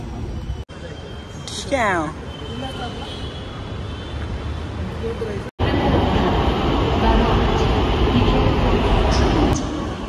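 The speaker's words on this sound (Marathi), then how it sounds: "आमची गँग आली आता. आमची मेट्रो." A metro train at a Mumbai station, a loud steady rumble of the carriages with a brief squeal of wheels early on, under a group's chatter.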